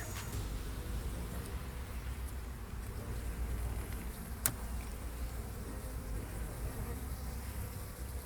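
A dense, steady buzzing of many honey bees at a hive fills the air close by, continuous throughout with a brief click midway.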